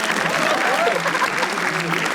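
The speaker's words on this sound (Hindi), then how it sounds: "हाँ, ताली प्लीज." An audience claps at a comedy roast battle show, a dense steady burst of applause mixed with crowd noise, brief and fairly loud.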